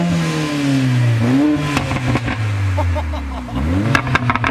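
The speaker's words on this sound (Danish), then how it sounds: "Elsker AMG-lyden, den der smellen på potta." Mercedes A45 AMG turbocharged four-cylinder starting and revving, a loud close engine that climbs and drops through sharp throttle blips, with popping crackles from the exhaust near the end.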